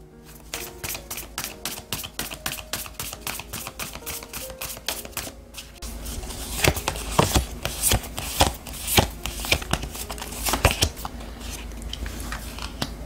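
Oracle cards are shuffled by hand for a tarot reading. A crisp, rapid ticking riffle runs for several seconds, then gives way to denser, louder slapping and sliding of the deck, close and with no talk.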